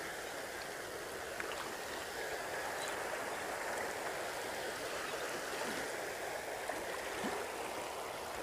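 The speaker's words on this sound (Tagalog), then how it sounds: "Dito tayo sa Umanod River mga ka-agri ito." The Umanod River flows in a steady, soft rushing wash, faint and continuous, with no voices.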